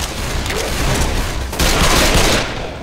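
Loud, dense gunfire from Left 4 Dead 2 pours out in continuous overlapping bursts, with no break for nearly three seconds.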